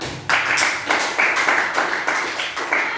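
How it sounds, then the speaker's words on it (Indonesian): A class of schoolchildren claps together at the end of a practice teaching lesson, sharp uneven bursts of hand claps repeating in a loose rhythm, fairly close in a small room. "Beri tepuk tangan untuk kita semua"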